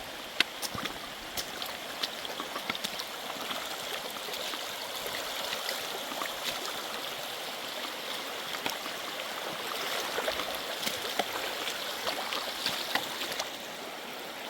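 Indian Creek on the Ozark Trail flows steadily near a crossing on a big flat rock, a soft continuous babble and trickle with faint splashes, alone and fairly quiet.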